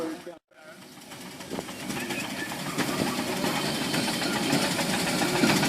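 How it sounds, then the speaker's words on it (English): An 1894 general-purpose single-cylinder steam traction engine runs at a steam engine parade, a steady rhythmic chuffing and mechanical clatter that builds after a brief gap, with a voice talking over it. "1894, barrel general purpose single cylinder traction engine."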